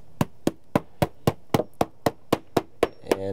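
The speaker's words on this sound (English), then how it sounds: "So you can take your hammer, go along," A hammer taps along the metal flashing at the base of an exterior door ledger beside decking, checking that it is solid: about a dozen evenly spaced, sharp, close knocks with no talking.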